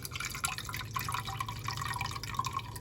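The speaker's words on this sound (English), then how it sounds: "I am going to pour it like this so I can just pour it directly into the bottle" Strained homemade liquid pours steadily into a bottle, a continuous trickling, dripping stream heard up close with no talking.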